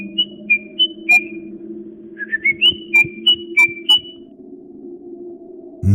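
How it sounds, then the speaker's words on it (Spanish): A shrill human whistle, first in several short bright blasts and then in a quicker run of sharp chirps, loud and close over a low steady hum. "el sonido de un fuerte silbido."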